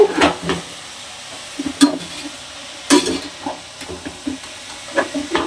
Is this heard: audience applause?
no